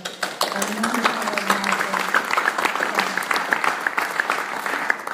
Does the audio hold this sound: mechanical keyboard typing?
no